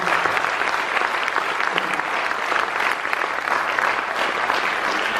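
A large audience applauds steadily at a Tamil comedy talk, a dense continuous wash of clapping that holds at an even level with no voices over it.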